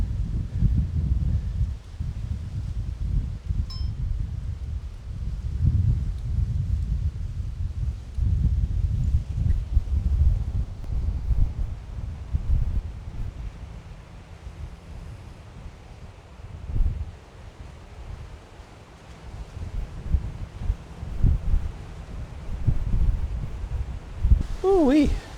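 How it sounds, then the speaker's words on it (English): Gusty wind buffets the microphone outdoors by open water, a low continuous roar that surges and eases over the whole stretch, loud and close, with faint rustling underneath and no talk. "that wind is whipping"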